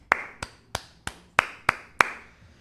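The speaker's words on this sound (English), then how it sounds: "Applause for Pedro Neto." Seven crisp, separate claps ring out at a steady, deliberate pace, applause for footballer Pedro Neto at a West Ham versus Chelsea match, sounding close and dry with no talking over them.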